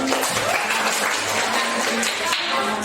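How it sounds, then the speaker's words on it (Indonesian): Audience applause in an Indonesian classroom teaching session on online business and marketing: steady, dense clapping fills the whole clip at moderate loudness, with faint voices and a low hum underneath. "Boleh tepuk tangan dulu."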